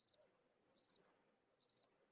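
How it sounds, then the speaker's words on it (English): Insect chirps in three short high-pitched bursts with pauses between them, a sparse inserted effect set against near silence. "Where's the crickets?"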